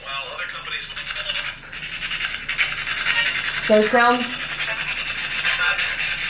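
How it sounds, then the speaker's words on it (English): A ghost-hunting spirit box scans radio frequencies, giving a steady hiss of static with quick choppy fragments and a brief tonal burst, while a person speaks briefly nearby. "This is the spirit box right here."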